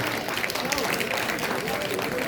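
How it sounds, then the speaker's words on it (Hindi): An audience at a Teacher's Day celebration in Bhagalpur applauding for themselves, a dense continuous wash of clapping from a crowd heard throughout. "चाहेंगे एक ताली तुम लोग खुद अपने लिए बजाओ"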